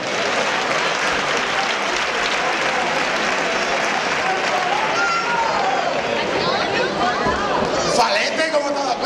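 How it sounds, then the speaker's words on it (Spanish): Strong, sustained applause from an audience at the Málaga carnival, with crowd chatter and voices in the mix and cheering rising near the end. "Un fuerte aplauso."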